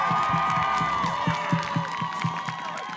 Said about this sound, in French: On peut applaudir toutes les familles des candidats et nos 3 couples finalistes